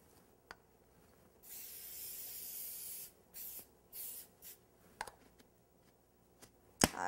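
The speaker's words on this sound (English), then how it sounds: "Just a little bit of cooking spray." A cooking spray hisses in a steady burst of about a second and a half, followed by a few shorter spritzes and light clatter nearby.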